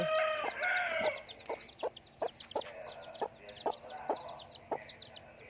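A hen clucks in a series of short, sharp notes at a steady rhythm, fairly close, with a longer call at the start and faint background chirps.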